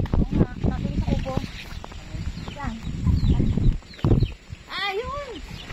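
Chickens clucking and squawking on a rural Filipino farm, rapid close calls and a rising screech among loud voices talking over them, with rustling and movement throughout.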